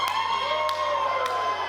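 A wrestling crowd cheers and roars steadily at a no-disqualification four-way match, a dense sustained wall of voices, with a few sharp louder bursts and a low constant hum underneath.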